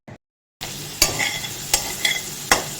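Mango pieces fry in a pan with a steady sizzle after a brief silent gap, punctuated by four crisp clanks of a utensil stirring against the metal, close by and without talk.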